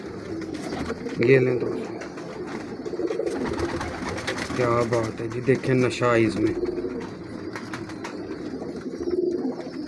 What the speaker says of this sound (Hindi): ये परफॉर्मर कबूतर हैं